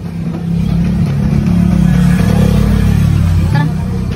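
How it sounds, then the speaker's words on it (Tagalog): A motorcycle passes close by on a cemetery path, its mid-pitched engine drone rising and holding steady for several seconds before easing off, with faint voices in the background. "May sasakyan. Ay, may motor."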